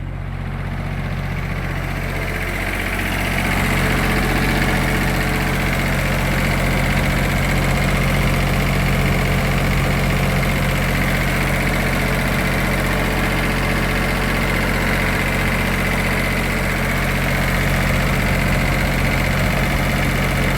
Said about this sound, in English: I'll turn the generator off when I come out here.